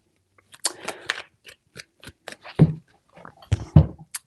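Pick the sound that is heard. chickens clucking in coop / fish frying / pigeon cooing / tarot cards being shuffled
tarot cards being shuffled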